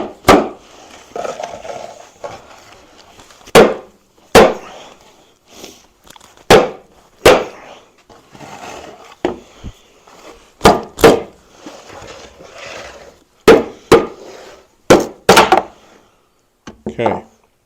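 A biscuit-joined plywood joint is hammered apart, giving about a dozen loud, sharp wooden whacks in irregular bursts, with brief creaks and muffled knocks between blows.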